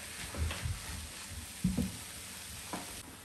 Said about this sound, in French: Et on va les faire revenir pendant plusieurs minutes jusqu'à ce qu'ils deviennent translucides avec nos lardons.